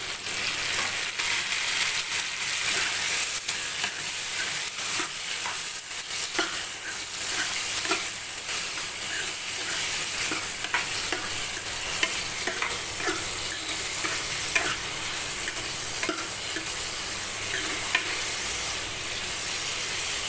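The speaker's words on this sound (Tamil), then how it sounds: "தக்காளி வந்து நல்லா வதங்கட்டும்" Chopped tomatoes sizzle steadily in a hot pan, with a spoon scraping and stirring in irregular strokes throughout.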